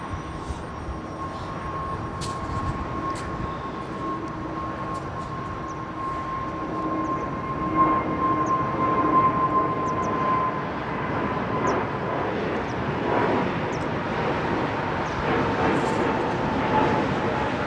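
An airliner departs from runway 09R at London Heathrow, a steady broad engine roar swelling slightly as it rolls, heard from a distance with faint talk beneath.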